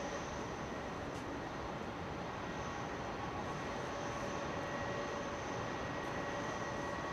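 A Singapore Airlines A380 on its takeoff run from runway 27 right at London Heathrow, a steady, distant engine roar with a broad rumble and faint whine holding level throughout.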